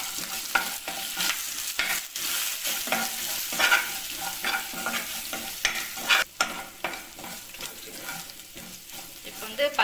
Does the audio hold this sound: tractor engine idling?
no